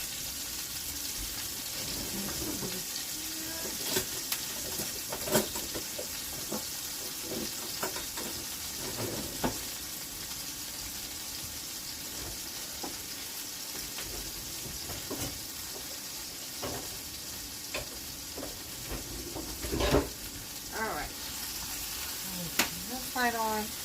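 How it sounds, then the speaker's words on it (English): Hamburgers fry in a heated pan with a steady, close sizzle, broken by sharp pops and a few utensil clinks, with faint kitchen clatter in the background. "we're going to get some hamburgers started. Over here in the pan."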